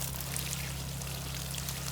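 Steady spring water pouring and trickling, continuous and fairly faint, with a low constant hum underneath and no talking.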